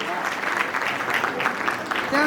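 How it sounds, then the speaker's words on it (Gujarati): Clapping from a school audience welcoming the class 1 students, a steady patter of many hands at moderate distance with voices mixed in. "તો આપ સૌ તેમને જોરદાર તાળીઓના ગડગડાટથી વધાવી લેશો"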